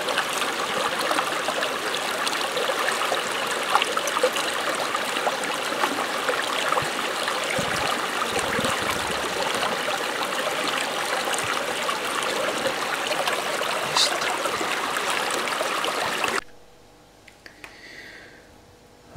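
River water flows in a limestone area, a steady close rushing and trickling that runs continuously before cutting off abruptly near the end, leaving quiet background.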